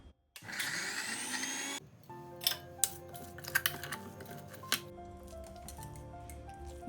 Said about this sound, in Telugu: మిక్సీ ఆన్ చేసుకుని ఇంకా మెత్తగా చేసుకోవాలి పచ్చడి